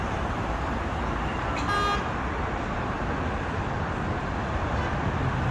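Dense traffic of many cars passing beneath a pedestrian bridge in Tel Aviv at night, a continuous broad roar with a brief higher tone near the middle.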